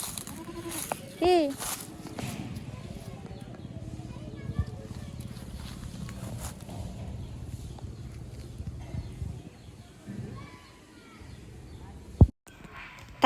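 A goat tethered in a field bleats briefly near the start, followed by a long stretch of rustling and shuffling outdoors, with a sharp thump near the end.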